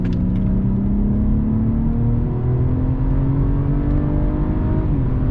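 A race car accelerates flat out on the Nürburgring, its engine note climbing steadily in a loud, continuous roar heard from on board, with no talk over it.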